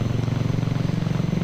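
VTOL aircraft engine in the X-Plane 11 flight simulator: a steady, loud, low rotor-like drone with even rapid pulsing throughout.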